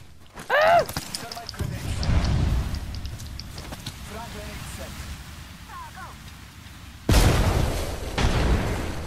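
Grenade explosions in Apex Legends, two heavy booming blasts separated by several seconds amid gameplay noise, with a voice shouting briefly near the start.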